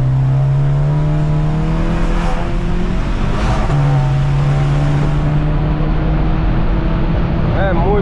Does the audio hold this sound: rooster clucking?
no